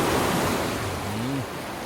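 Sea waves wash in a steady broadband rush, with a brief rising tonal sound near the end.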